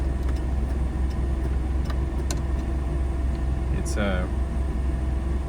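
Engine of a 1979 Toyota Hilux 4x4 pickup idling steadily nearby, a low continuous hum under someone talking, with a brief chirp partway through.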